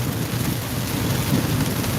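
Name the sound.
rain falling outdoors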